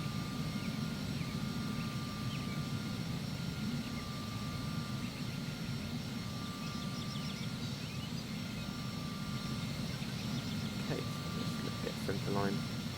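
Twin jet engines of an Embraer Phenom 300 spool up to takeoff thrust in the Prepar3D flight simulator, a steady whining roar that holds throughout with faint tonal chirps near the end.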